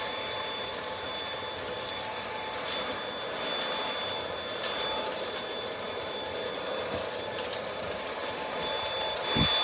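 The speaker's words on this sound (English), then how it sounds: "The best vacuum cleaner, guys. Don't waste your money. This is the Dyson." A Dyson vacuum cleaner runs continuously, a steady whooshing airflow roar with a thin high-pitched motor whine that holds level throughout.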